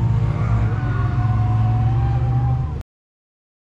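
A race car engine held high in the revs, roughly above 3000 rpm, before pulling away on a track, droning loud and steady for nearly three seconds, then cut to silence.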